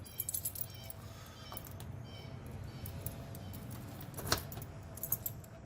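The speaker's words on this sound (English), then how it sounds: "We have several Ford keys on here" A bunch of Ford car keys for a 1967 Mustang jangling and clinking, with bright metallic rattles at the start and a sharper clink near the end over low background rumble.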